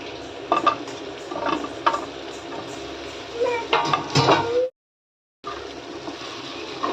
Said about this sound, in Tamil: நல்லா கிளறி விட்டுக்கலாம் கத்திரிக்காய் நல்லா வதங்கிட்டுருக்கு